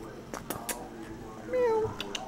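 A house cat gives a short rising meow indoors, soft and close, with a person's quiet voice and light handling noises around it.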